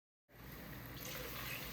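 Water pours from a measuring cup into a cooking pot for soy sauce chicken. It starts abruptly and keeps up a steady, faint, splashing stream to the end.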